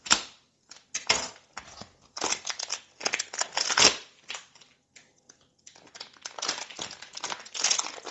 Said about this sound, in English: So you will need to remove this plastic.